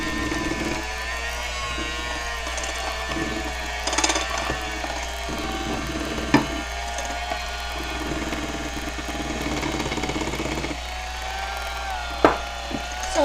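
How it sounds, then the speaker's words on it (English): Electric hand mixer whirring steadily as flour is stirred into savoiardi cookie batter, a continuous close motor drone with occasional clicks and knocks of the beaters against the bowl. "So I'm just kind of stirring it in with my mixer."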